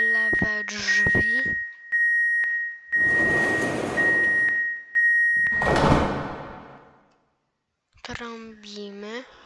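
Door-closing chime and beeps from a Warsaw M2 metro train in Roblox, a tonal ding with a steady beep running under two loud bursts of rushing door noise, bracketed by talking at the start and end.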